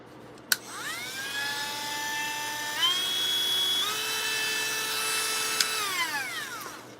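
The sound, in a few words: Dremel Light rotary tool running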